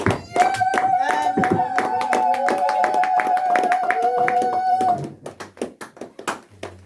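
A church congregation claps in steady rhythmic unison for about five seconds, loud and close, under a sustained sung or shouted voice, then the beat breaks into scattered, thinning claps.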